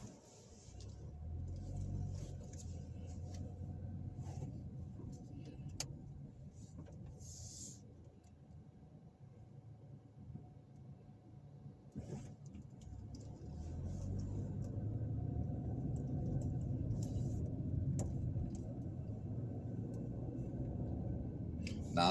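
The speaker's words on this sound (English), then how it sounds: "I'm driving through downtown at this particular moment." A car drives through downtown Clanton, Alabama, with a steady low engine and road rumble from inside the vehicle that swells slightly louder in the second half, with no talk.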